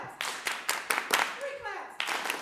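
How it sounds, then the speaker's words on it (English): An audience at a women's leadership symposium claps together in a call-and-response rhythm, producing several sharp, evenly spaced group claps with a brief gap and one more burst near the end. "I say, give me 5 claps, and they do this."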